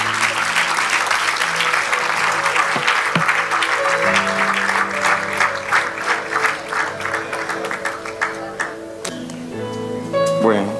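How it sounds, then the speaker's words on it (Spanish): A church congregation breaks into loud, sustained applause while a sustained keyboard or organ chord plays underneath, and the clapping and music carry on together. "Dale aplauso al Señor."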